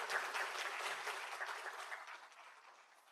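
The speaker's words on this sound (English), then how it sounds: "So let's give her a round of applause here." An audience at an academic leadership event gives a round of applause for a campus representative. The dense clapping is steady and fairly loud at first, then thins and fades toward the end.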